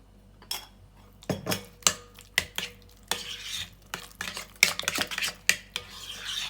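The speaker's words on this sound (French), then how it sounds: "Je mélange tout." Spoon scraping and clinking through a tajine el bey mixture in a bowl, with a few seasoning grains of pepper going in: repeated irregular stirring strokes, close and moderately loud, with no talking.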